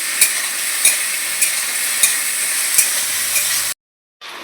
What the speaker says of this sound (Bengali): সামান্য লবণ, সামান্য হলুদ দিয়ে আমরা পটল আলুটা ভেজে নেব